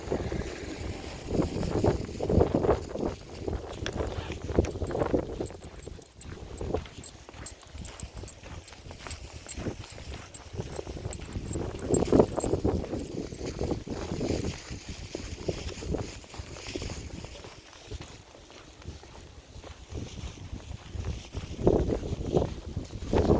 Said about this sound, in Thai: ทั้งลมทั้งหิมะเลยวันนี้